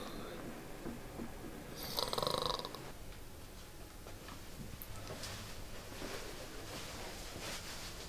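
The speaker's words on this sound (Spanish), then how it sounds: "esta es la prueba de que sí roncas" A faint snore plays back from a recording at low volume, with a louder breathy burst early on and soft hiss throughout.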